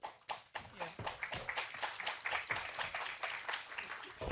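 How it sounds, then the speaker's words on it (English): A small audience at an entrepreneurship talk claps for a speaker, a close, uneven run of distinct hand claps that forms a brief scattered round. "that's the first clap I got, isn't it?"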